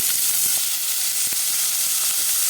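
Chopped onion and chilli sauté in hot oil for vegetable rice sevai, a soft continuous sizzle with a few faint stirring clicks.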